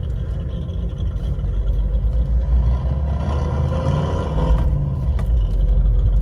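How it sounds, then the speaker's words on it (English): Simulated big-cam V8 engine from a car sound app, played inside a moving car as a lumpy, steady low rumble that swells a little toward the end. "So now, you know, it's like a big cam V8."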